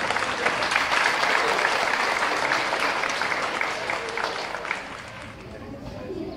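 At a primary school closing ceremony in Acapulco, an audience applauds a schoolgirl with loud, dense clapping that gradually thins and fades toward the end.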